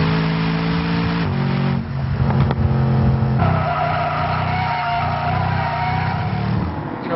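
A Mercedes SLS AMG GT is driven hard, its engine note climbing and dropping through gear changes, loud and continuous, heard alone without talk.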